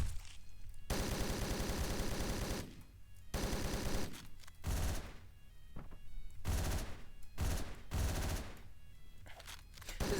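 Automatic gunfire in the video game 9 Lives: several long bursts of rapid, loud shots separated by brief pauses, heard alone without voices.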